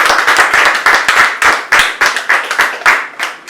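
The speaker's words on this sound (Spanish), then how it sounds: "Démosle un fuerte aplauso a nuestro Señor por esta palabra." A church congregation claps together in a fast, uneven burst of hand claps, loud and close, with no talk over it.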